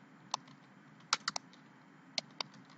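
Scattered keystrokes on a computer keyboard while coding a C# project in Visual Studio, a few isolated clicks and a quick cluster of taps over quiet room hiss.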